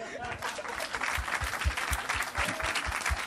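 A church congregation applauding and acclaiming the Lord during a French-language sermon, with steady, sustained clapping from a crowd and rhythmic low thumps under scattered voices calling out.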